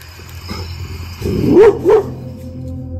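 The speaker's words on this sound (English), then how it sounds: "she notices one of the farm dogs is barking at something in the right side of the field" A farm dog barks out in a field: two sharp barks in quick succession, moderately close, standing out against quiet outdoor background noise.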